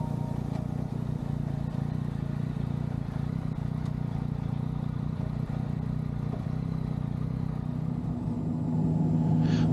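A Yamaha MT-09 SP motorcycle cruising along a road with a steady engine rumble and wind noise, holding an even level throughout with a slight rise near the end.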